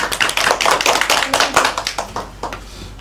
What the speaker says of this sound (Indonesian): Beri tepuk tangan untuk Mbak Agril